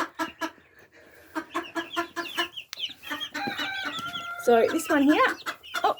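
Japanese bantam chickens cluck and call in a backyard pen, a mix of short clucks and longer rising squawks close by, with someone talking briefly over them.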